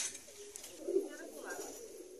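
Pigeons coo softly at a home pigeon-rearing farm, a brief, faint run of low murmuring coos.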